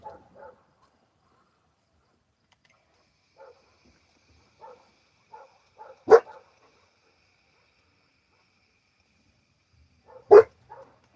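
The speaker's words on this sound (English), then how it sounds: "dog's barking, Seamus." A dog outdoors gives two loud, sharp barks several seconds apart, with faint scattered softer noises in between and otherwise near silence.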